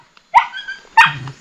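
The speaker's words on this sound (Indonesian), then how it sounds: "Nah, usir, Ci. Biar masuk, Ci. Gonggong, Ci." A dog barks twice, close and loud, each bark sharp with a short whining tail, separated by a brief pause in an otherwise quiet rural setting.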